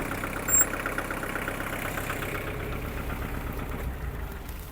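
A Kubota GL-368 four-cylinder Japanese mini tractor idles with a steady, low rumbling beat, moderately quiet and close, with no voices.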